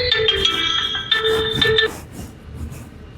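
A phone ringtone plays a bright electronic melody in two short bursts, then cuts off, leaving quiet background murmur.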